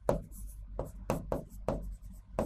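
Chalk or marker taps and strokes firmly on a classroom board. Six sharp, evenly spaced hits land close and clear over about two and a half seconds.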